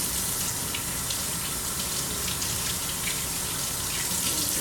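Tap water running steadily into a sink during washing, a continuous splashing gush heard close and fairly loud without pause.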